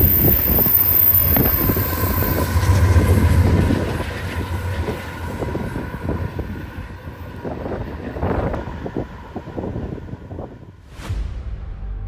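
A BNSF oil train of flammable-liquid tank cars, with hopper buffer cars, rumbles past with a steady low roar and rhythmic wheel clatter, loudest early then easing off, wind buffeting the microphone.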